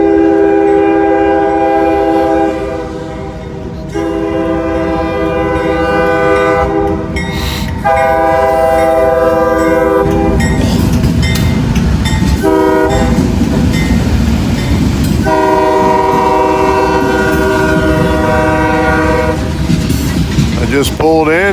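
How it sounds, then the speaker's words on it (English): An arriving train sounds its horn in several long, loud blasts separated by short breaks, over a continuous heavy rumble of wheels on track. "lo and behold, here comes the train"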